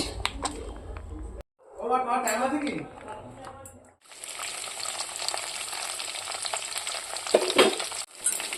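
Hilsa fish fry in hot oil with a steady crackling sizzle, and a voice briefly talks over it early on.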